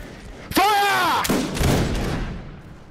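A line infantry regiment fires a musket volley in a video game: a loud ragged crash of many shots that rolls and echoes for about two seconds, after a shouted command heard in the clip.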